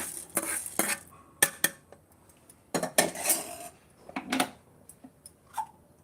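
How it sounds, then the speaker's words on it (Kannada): Horse gram is tipped into a mixer grinder jar, making several short bursts of clattering, clinking rattles close by, separated by brief quiet gaps. "ಇದನ್ನು ಮಿಕ್ಸಿ ಜಾರ್ಗೆ ಹಾಕ್ತಾ ಇದ್ದೀನಿ"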